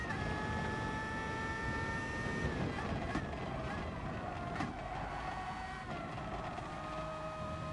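Steady, loud car engine drone plays in the Gran Turismo Sport racing game during an FIA race, holding a sustained whine whose pitch drifts slowly downward, with occasional brief shifts.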